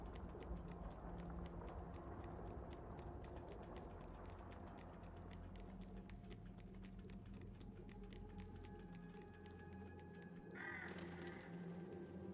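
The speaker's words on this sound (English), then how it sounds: "the birds are going after the baby doll now" Birds caw in the Little Nightmares 3 video game, a few rough calls over a low, murky game ambience, with a sharper burst of harsh tones near the end.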